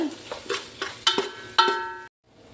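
Cumin, garam masala and pepper powders fry on a low flame for chicken biryani, heard as a soft sizzle under a few ringing metal spoon clinks and stirring scrapes against the pan, before a sudden silence.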